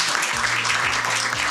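An audience at a youth advocacy event applauds and cheers for a visiting female Member of Parliament, steady dense clapping throughout with a low hum underneath.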